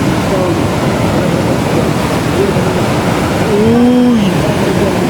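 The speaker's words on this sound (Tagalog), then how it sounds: "lakas ng alon dito" Strong ocean waves roar steadily at Baler beach, a continuous loud surf wash with wind buffeting the microphone and brief voices in the background.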